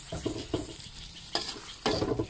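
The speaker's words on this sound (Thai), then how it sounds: "ลงไปผัดค่ะผัดให้เข้ากับเครื่องแกงนะคะ" Thinly sliced grilled pork neck is stir-fried with curry paste in a pan, a steady close sizzle broken by a few scraping stirs of the spatula, with no talking.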